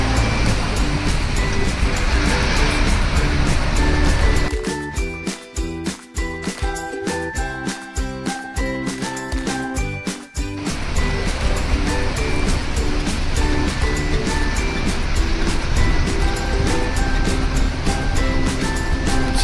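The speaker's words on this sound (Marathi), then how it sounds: "समोरून ग्लेशियरचं पाणी येत आहे, वितळलेल्या बर्फाचं पाणी." A glacier-fed river near Kasol roars as a continuous loud rush of water. Midway, a stretch of rhythmic rattling and thumping from a vehicle on the rough road is heard over it.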